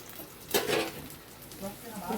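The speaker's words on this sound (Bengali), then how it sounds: "এখানে দেখো মাছগুলো ভাজছি লাল লাল করে" Fish sizzling as it fries in a home kitchen pan, a brief burst of spattering oil and a stirring scrape, fairly quiet and close, with faint background noise around it.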